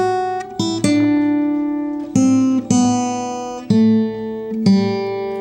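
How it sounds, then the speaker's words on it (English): Acoustic guitar picking out the Joy to the World melody as a series of clear, ringing single notes in a slow, stepwise rhythm, played alone and close up. "And suddenly it's Joy to the World"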